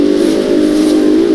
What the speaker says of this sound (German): ich fahre nur einen fucking Nissan